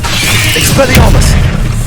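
An Expelliarmus spell goes off in a Hogwarts game, a heavy booming crash with a whooshing magical swirl, loud and close, lasting under two seconds.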